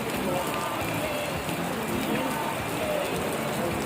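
Rain falls steadily at an outdoor gathering in Don Victoriano, Misamis Occidental, a continuous broadband patter running through the whole stretch with a faint crowd murmur beneath.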